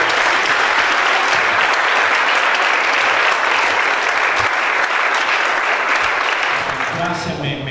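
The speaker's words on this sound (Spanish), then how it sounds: "Den un aplauso a Dios por esta noche maravillosa." A church congregation at a tenth-anniversary service claps loudly and continuously throughout, the dense applause tapering slightly at the end as a voice begins to speak.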